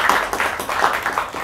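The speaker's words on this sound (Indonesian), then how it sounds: "Beri tepuk tangan untuk Bu Lilis." A brief burst of audience clapping at an education talk show on disaster mitigation in schools, moderately loud and lasting just over a second.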